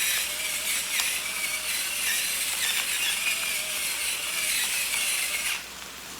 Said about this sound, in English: just a bunch of grinds of pepper